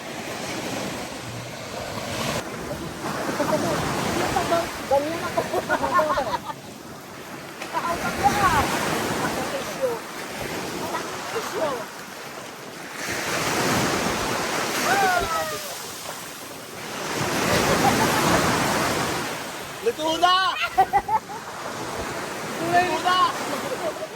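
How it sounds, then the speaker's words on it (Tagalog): Ocean waves rolling onto Sidell Beach in Mindoro, a steady broadband wash that swells and recedes in repeated surges, with wind noise on the microphone and some voices underneath. "May maalon din dito."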